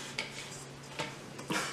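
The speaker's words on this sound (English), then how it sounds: "and then I can just unscrew my bowl" A KitchenAid stand mixer's metal bowl being twisted and unscrewed from its base gives three short, close clinks and scrapes of metal on metal in a quiet kitchen.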